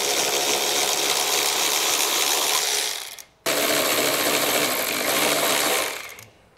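A power tool spins off 13 mm exhaust bracket bolts on a 2023 Volkswagen Tiguan during a trailer hitch install, giving two loud continuous whirring runs, each about three seconds, separated by a short break.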